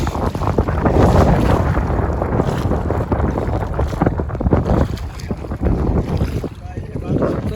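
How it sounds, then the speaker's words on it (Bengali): Strong wind blows across an open riverbank in Barisal, roaring steadily and buffeting the microphone with loud, rough gusts throughout, with only faint hints of water underneath. "এখানে প্রচুর বাতাস তো"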